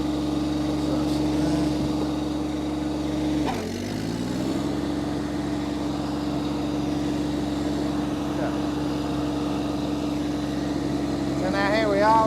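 Engine of an Iseki TXGS24 tractor running steadily as it drives, a close, even drone that dips briefly and then recovers midway. A person talks over it at times.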